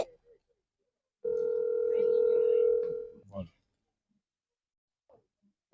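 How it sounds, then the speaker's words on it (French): An outgoing phone call ringing back on the line: a single steady ringback tone about two seconds long, fairly loud and close, followed by a short click, with brief speech before and after it. "Je suis en train d'appeler M. John, ça sonne mais il ne répond pas."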